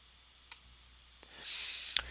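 A few sharp, isolated computer mouse clicks sound close and dry, spaced apart, with a brief soft hiss building before the last click in an otherwise quiet room.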